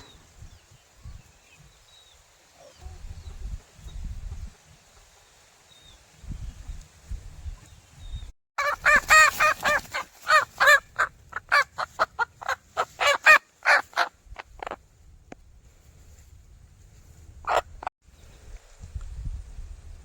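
Free-range country chickens squawk and cackle in a rapid, loud burst of alarm calls while chasing a cobra in an areca nut plantation, with a few quieter clucks before and after, and muffled rustling beneath.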